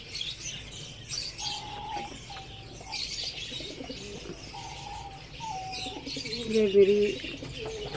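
Fantail pigeons coo at their nest with several soft, low repeated coos, joined by faint chirps and a brief wing flutter near the end, while someone speaks briefly nearby.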